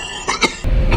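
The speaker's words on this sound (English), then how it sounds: "I also do not know why he is coughing." General Grievous coughing in a Star Wars prequel film, a short run of two or three harsh, raspy, wheezing coughs close up, followed by a low mechanical rumble.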